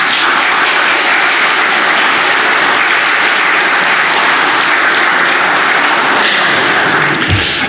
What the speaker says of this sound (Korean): 박수함으로 맞도록 하겠습니다